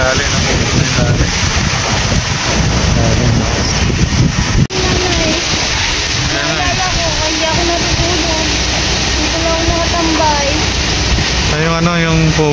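Strong typhoon wind roars steadily and loudly against the microphone throughout, a constant rushing blast with water-like noise, while voices talk faintly beneath it.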